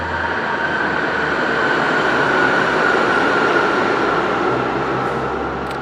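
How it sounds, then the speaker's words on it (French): A train passes beside a station near an abandoned factory, its steady broadband rumble and rail noise holding loud and continuous throughout with no let-up. "on est à côté d'une gare, du coup on entend les trains passer"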